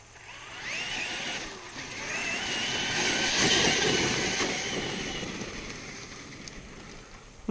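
A Traxxas X-Maxx RC truck makes a high-speed pass through mud: its electric motor whine swells to a loud peak, then fades away, with spattering grit mixed in and no speech.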